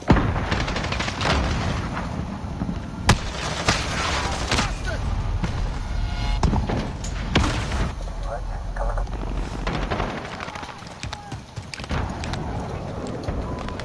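Gunfire and explosions in a PS4 first-person shooter game, a dense, loud battle of repeated sharp shots and heavy booms running throughout, with radio-style voices talking over the action.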